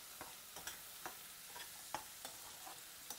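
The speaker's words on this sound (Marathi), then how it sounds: "टोस्टेड काजू टाकतोय" Toasted cashews go into a pan of frying onion, tomato, garlic and ginger masala, with a quiet steady sizzle and regular light stirring taps in a kitchen.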